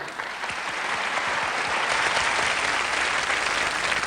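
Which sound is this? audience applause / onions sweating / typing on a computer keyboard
audience applause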